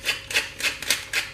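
Pepper ground over a goat cheese pasta sauce: five evenly spaced rasping grinds, close and crisp, with no voices.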